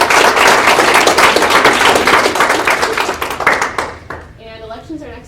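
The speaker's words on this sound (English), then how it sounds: "a round of applause for our moderators" Loud, dense applause and clapping from an audience at a student government election debate, sustained for about four seconds before thinning into a few scattered claps as a voice begins talking.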